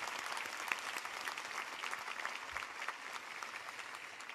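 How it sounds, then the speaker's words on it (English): An audience at Rice University's 2025 commencement ceremony gives sustained applause, a steady, even clapping heard at a distance and fairly faint. "Let us applaud them for their devoted and honorable service."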